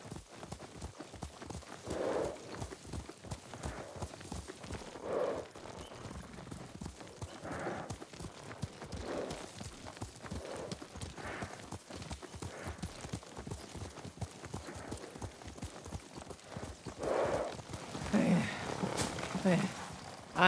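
Horse hooves beating a steady galloping rhythm as a rider travels in the Ghost of Tsushima video game, with occasional horse snorts and voices speaking over the hoofbeats.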